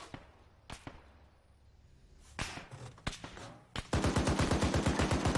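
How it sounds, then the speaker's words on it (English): Gunfire in a military video game, scattered single shots and sharp cracks that build into a loud, rapid automatic burst at close range. "We are taking fire from the north and west, I think."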